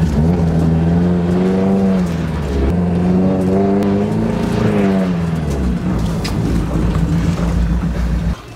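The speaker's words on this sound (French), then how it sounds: "Là maintenant que j'ai demandé beaucoup de puissance au moteur" A 1300 cc car engine revs hard, heard loud and close, its pitch climbing and dropping in repeated surges before settling into a steady roar.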